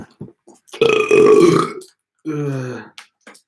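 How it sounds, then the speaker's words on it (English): A loud, drawn-out burp rumbles close to the microphone, followed by a second shorter belch, with brief small sounds around them and no talk. "Is that the Corona burp?"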